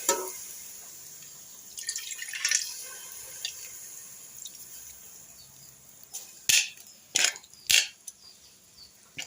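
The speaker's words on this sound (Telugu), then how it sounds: "చింతపండు పులుసు అయితే పోసేసుకుందాం" Tamarind extract poured into a cooking pot for a village-style fish curry: several short, sharp liquid splashes and drips near the end, after a quieter stretch of soft trickling, with no talking.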